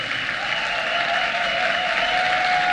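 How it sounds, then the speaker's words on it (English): Sustained, loud applause from a convention crowd at BronyCon 2019, honoring guest panelists; dense steady clapping fills the whole stretch without any talk. "can we please get another huge, huge round of applause for our wonderful guests, Lauren Faust, M.A. Larson, Jayson Thiessen,"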